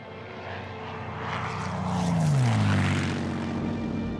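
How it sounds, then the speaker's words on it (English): A Messerschmitt Me 109 propeller fighter plane passing overhead, its engine drone swelling to a peak near the middle and then easing off slightly, with a low falling pitch as it goes by. "Da hatten wir die ersten Me 109 Flugzeuge, also das berühmte Jagdflugzeug."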